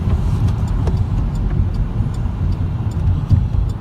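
A diesel truck engine rumbles steadily nearby while the truck blows black smoke, a continuous deep growl that holds at an even loudness throughout.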